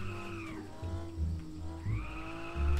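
A car drifts in the driving game Car For Sale Simulator, with its engine revving up and down and tires squealing in rising sweeps, loud and close, and no voices.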